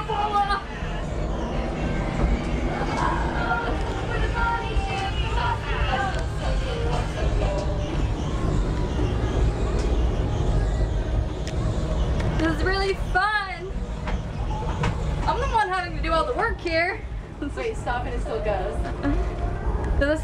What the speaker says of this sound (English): We're on this ride and it's accelerating.